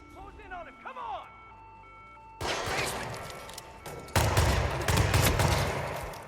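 Bursts of heavy automatic gunfire erupt in a Hitman: World of Assassination Freelancer mode mission, loud sustained rattling that starts abruptly, pauses, then returns even louder, after a brief stretch of a voice talking and game tones.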